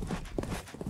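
A horse's hooves clip-clop along at a quick, steady rhythm, close and fairly loud, with a low rumble of movement beneath the hoofbeats.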